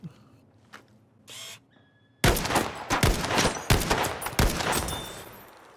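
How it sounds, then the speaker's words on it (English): Rifle shots crack in Battlefield Firestorm, a few quiet clicks and mechanical sounds leading into a loud burst of several sharp, closely spaced gunshots with echoing tails. "that was 4 very well-placed shots from me"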